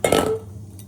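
Roasted gram flour is tipped from a metal pan into a bowl: two or three bright metallic clinks ring out close by, then fade to near quiet.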